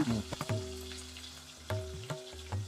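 Dried red chillies, curry leaves and garlic sizzle in hot oil in a pan, a close crackling fry with a few sharp clinks and scrapes of a spoon against the pan.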